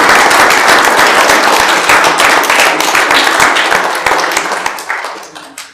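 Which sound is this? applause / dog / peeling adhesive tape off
applause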